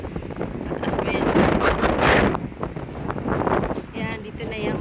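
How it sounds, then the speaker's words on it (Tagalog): Strong seaside wind at high tide roars loudly against the microphone, a thick gusting rumble that peaks midway and stays heavy throughout. "ang lakas talaga ng hangin"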